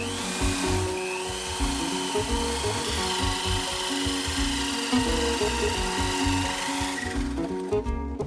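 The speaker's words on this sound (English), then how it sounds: "Next, I'm gonna drill the holes into the frame." Hand drill boring holes into the wooden frame of a contemporary sun lounger, a steady grinding, rubbing drone running continuously at close range with slight shifts in pitch and no talking.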